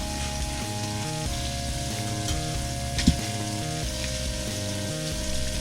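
Onions turning translucent as they fry in a pan, a steady close sizzle over a low hum, with a brief clatter partway through and no talk.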